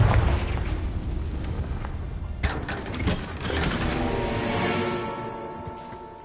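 Repeated booming spell blasts from Confringo and Bombarda in the wizarding video game Hogwarts Legacy, sharp bursts followed by rolling rumble and crackle, loud and layered over a swelling game score.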